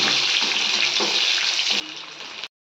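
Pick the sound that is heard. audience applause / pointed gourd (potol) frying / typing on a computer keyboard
pointed gourd (potol) frying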